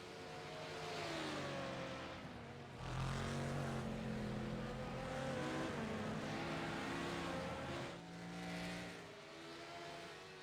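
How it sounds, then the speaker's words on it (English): V8 race car engines drone and rev in a racing video game, with several sustained engine tones rising and falling together, loud and steady with gear-like shifts. "At least the V8 motors sound nice."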